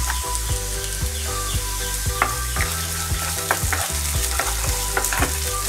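Grated ginger and cumin seeds fry in hot oil and are stirred, for crispy corn pakoras. A dense, close sizzle runs throughout, broken by regular scraping strokes of the spoon against the pan.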